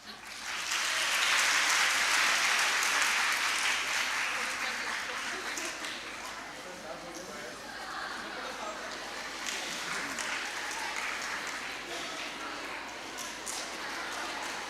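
Audience applause at an interactive event organized by a university with the World Bank, a sustained wash of clapping that swells early then continues more softly, with voices underneath.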